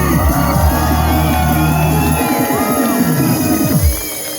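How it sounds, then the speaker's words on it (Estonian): A loud crowd cheers, whoops and shouts for dance stars at a show, a dense continuous roar that fades slightly near the end. "Tantsustaarid, teeme suure aplausi."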